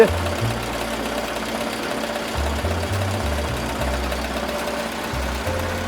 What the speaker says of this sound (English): I'm going about 800 stitches per minute.